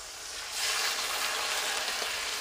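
Steady hiss and sizzle as water goes into a hot pan of fried papaya, a soft continuous frying wash that swells slightly after the first half second.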